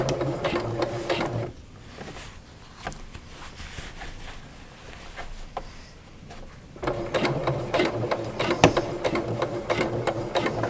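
Sewing machine stitching a dart alongside basting stitches on a McCall's 7279 garment: a steady mechanical whir that runs for over a second, pauses through a quieter stretch, then resumes close and loud for several seconds.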